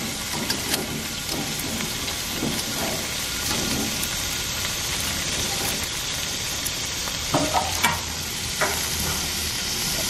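Lobster sizzles on a grill after being flipped, a dense, steady hiss and crackle up close with a few scattered pops and scrapes, no voices.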